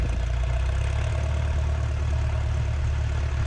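A Citabria 7ECA aircraft engine idles at 1,000 rpm during shutdown, a steady, loud, close low drone with an even throb and no voices.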